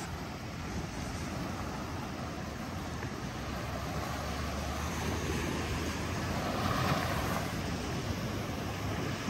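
Rough ocean surf breaks at a beach in North Naples, Florida, a steady broadband roar of waves mixed with wind, moderately loud and continuous with no talk.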